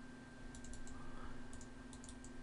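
Soft, quiet typing on a computer keyboard, with two short clusters of light key clicks over a steady electronic hum.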